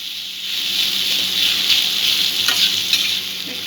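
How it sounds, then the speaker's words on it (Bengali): Sandwich filling frying in a pan while being stirred, a steady close sizzle with occasional scraping clicks, no voices. "নাড়াচাড়া করে নেব।"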